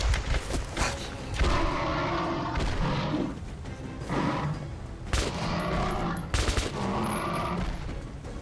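Repeated heavy gunfire bursts in Metro Last Light Redux, loud and close, arriving in clustered volleys with short gaps between them, with no talking over them.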